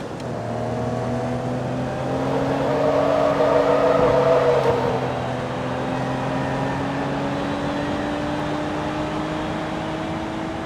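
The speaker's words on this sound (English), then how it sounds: "The sounds of the cars are excellent. I love the way all the engines give off different tones" Racing cars in the video game Forza Motorsport 2, with steady engine drones whose pitch climbs gradually under acceleration, a louder pass swelling in the middle, and a continuous whirring tone.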